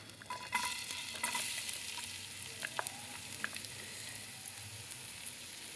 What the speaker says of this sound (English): I'm going to add in some onions, yeah. I'm gonna add in some onions.